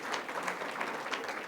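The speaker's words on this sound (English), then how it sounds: "Give them a round of applause." Audience applause for guests at a civic speaking event with a Chicago alderman: a steady, moderately loud wash of many hands clapping with no speech over it.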